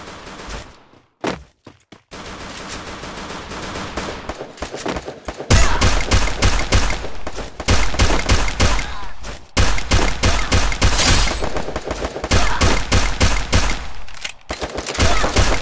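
Rapid gunfire crackles in bursts from a Tamil gameplay session. Dense automatic volleys come close and loud, with brief pauses between sustained strings of shots.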